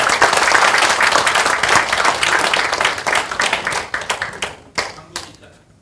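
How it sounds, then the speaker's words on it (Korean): Audience applause at a Korean screening event for a documentary film, dense loud clapping that starts at full strength, then thins out and fades toward the end. "우리 모두가 다 내빈이기 때문에 박수 한번 치겠습니다"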